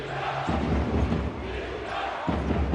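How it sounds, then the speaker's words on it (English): Basketball fans of Al Riyadi Beirut roar a rhythmic defense chant in a packed arena, two loud surging bursts of massed voices filling the hall, with no commentary audible over them. "Al Riyadi crowd shouting defense"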